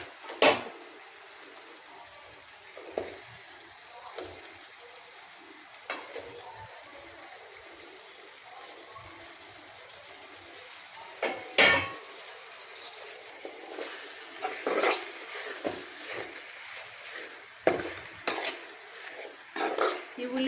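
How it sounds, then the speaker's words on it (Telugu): Mutton pieces are stirred into an onion-tomato paste in a pan while making mutton biryani, giving intermittent scrapes and clatters of the spoon against the pan over a faint sizzle, fairly quiet and close. "ఇప్పుడు మటన్ ముక్కలు వేసుకుందాం"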